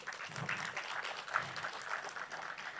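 An audience at a business panel event applauds a panelist: soft, fairly distant clapping that stays steady and low for a few seconds, with no voices over it.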